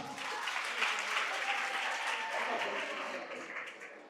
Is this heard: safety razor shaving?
no